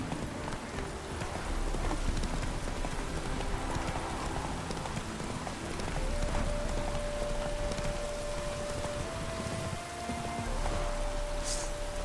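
A horse gallops through rain in The Witcher 3, hooves drumming in a quick, steady rhythm over a constant hiss of falling rain, with a faint tonal hum joining partway through.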